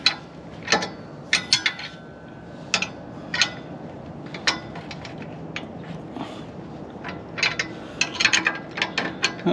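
A ratchet wrench tightens the bolt of an anti-rattle trailer hitch, clicking in short uneven bursts of rapid pawl ticks with brief pauses between strokes, close up.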